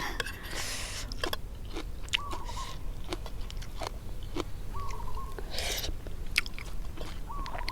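Close, wet chewing and slurping of food, likely snails sucked from their shells, with crunchy bites and repeated short sucking sounds in an irregular rhythm.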